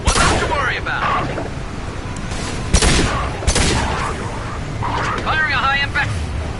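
Gunfire from a high impact shot in Mass Effect 2, a few sharp loud bursts around the middle of the clip, set within dense game noise and voices.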